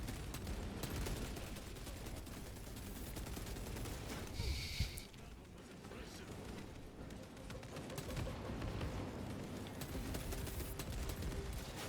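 A machine gun fires in the Warhammer 40,000: Space Marine 2 campaign. The burst is fairly faint and is buried in dense, continuous battle noise, with a brief louder spike partway through and no voices.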